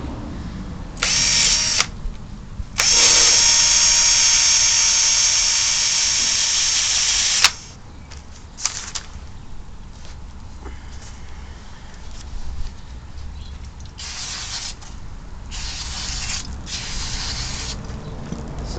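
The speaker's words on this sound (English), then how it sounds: "So I'm just giving them a quick wire brush down now." Wire brush scrubbing rust off old Barford plow discs, a loud steady rasping grind in bursts, with one long continuous pass in the middle and shorter scrubbing strokes around it, no voices.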